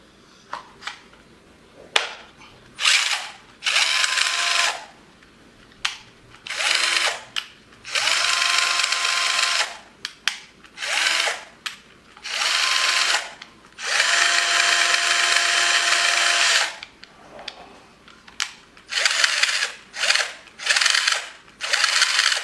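A Bosch GSR 120-Li cordless drill test-run after a motor replacement whines in repeated bursts of varying length, from short blips to several-second runs separated by silences, loud and close with no talk.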